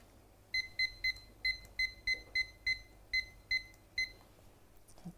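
Kitchen timer set while pancakes cook in a pan, giving about a dozen sharp, evenly repeated electronic beeps in quick pairs and singles, close and clear over a quiet background hum.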